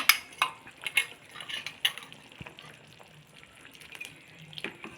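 A spoon clinks and scrapes against a metal pot while gram flour mixed with water is stirred in, a few sharp close taps followed by softer swishing, quiet and with no voices.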